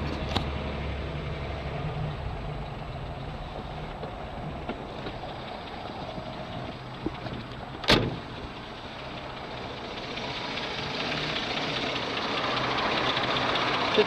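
A 1952 Chevrolet Bel Air engine idles steadily after a push-button start, a low even rumble with a single sharp click partway through and a slight rise toward the end.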